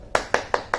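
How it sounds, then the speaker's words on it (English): Four sharp hand claps, close and evenly spaced in quick succession, from a lone person clapping at home. "Give him a bit of a round of applause at home."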